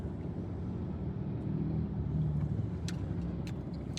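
Road traffic rumbles past at a steady, fairly distant level, a low continuous roar of passing cars with faint scattered higher clicks.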